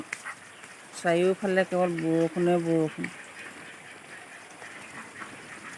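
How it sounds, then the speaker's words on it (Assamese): Domestic ducks quack nearby in a quick burst of several loud quacks, then things go quiet apart from a voice speaking. "এতিয়া আমাৰ আৰু হাঁহ আছে, পাতি হাঁহ"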